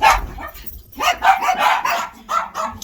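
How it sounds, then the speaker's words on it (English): A dog barks in a quick series of four or five loud, close yaps and woofs, with brief pauses between them and no talking. "Dogs are horrible at letting things go."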